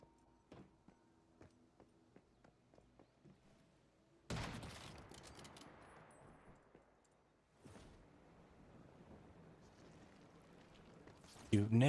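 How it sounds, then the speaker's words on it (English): Gunfire in the survival shooter Once Human: a run of sharp separate shots in quick succession, then a louder, heavier burst of firing that fades and swells again, with an abrupt loud blast at the end. "Shooting everyone in their freaking face"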